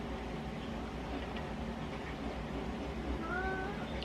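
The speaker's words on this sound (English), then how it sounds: "What are you meowing at?" A cat meows faintly a couple of times in a quiet room with low background hum, the cries brief and somewhat distant.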